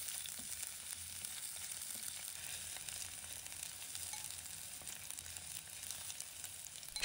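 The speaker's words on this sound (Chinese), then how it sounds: "准备砂锅，加入少许食用油，把葱、姜、蒜放入锅中" Scallion, ginger and garlic frying in a little oil in a clay pot, a steady close crackling sizzle with occasional stirring scrapes, continuous and fairly soft, with no talk.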